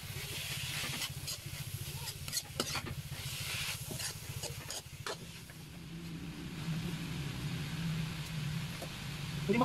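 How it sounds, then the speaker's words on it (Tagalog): Bamboo shoots adobo stirred in a pan with soy sauce, a utensil scraping and clacking in scattered strokes over a steady low sizzle, fairly close, with no talk. "Haluin ulit."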